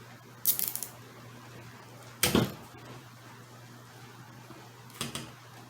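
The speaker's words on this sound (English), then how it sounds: "Now I'm going to pull these zip ties down tight." Zip ties on a fishing rod fitted with glowing el wire are pulled tight, giving three short, sharp ratcheting zips spaced apart, close and fairly clear over a quiet background.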